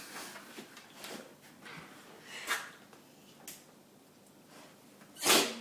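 A dog sneezes close by, a sharp explosive burst near the end, after a few fainter snorts and scattered clicks and shuffles at low level.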